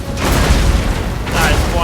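Missile volley impacts in a Total War: Warhammer dwarf battle, a dense rumbling barrage of booms and crackles that swells, dips and surges again, with a voice talking over it.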